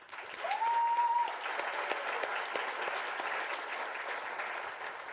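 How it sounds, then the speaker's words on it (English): A crowd applauds the newly recognized ambassadors at a July 4th Funfest scholarship coronation, a steady dense wash of clapping lasting several seconds, with a brief whistle-like tone near the start. "So please give your ambassadors a round of applause."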